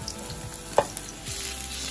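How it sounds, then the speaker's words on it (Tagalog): Garlic frying in oil in a pan for fried rice, a soft continuous sizzle with a single sharp clink of a utensil, close and without talk. "So, i-fry natin yung garlic first."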